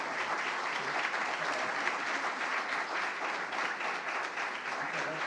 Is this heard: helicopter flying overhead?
no